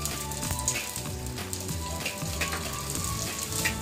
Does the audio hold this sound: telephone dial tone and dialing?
no